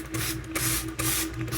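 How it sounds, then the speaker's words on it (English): A small spray bottle misting water onto fabric stretched in an embroidery hoop: three or four loud, close hissing bursts in quick succession with brief gaps between them. "I'm gonna spray my hoop."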